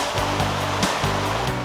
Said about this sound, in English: the engine can also spray thousands of gallons of water through the use of a nozzle called a monitor